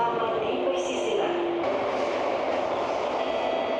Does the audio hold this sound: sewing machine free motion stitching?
no